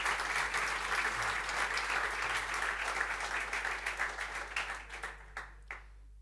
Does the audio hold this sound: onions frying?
no